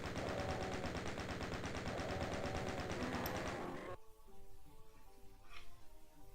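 A chain gun in DOOM fires a fast, steady stream of loud shots for about four seconds, then stops, leaving quieter game sounds.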